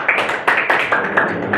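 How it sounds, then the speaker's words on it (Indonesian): A classroom of students claps for a group that has just finished presenting, a short, uneven burst of several hands with sharp, fairly close claps and no talk over it. "berikan tepuk tangan untuk kelompok 1"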